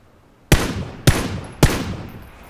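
Three loud gunshots from a sniper-style rifle in the video game PlayerUnknown's Battlegrounds, spaced about half a second apart, each a sharp crack trailing into a decaying echo.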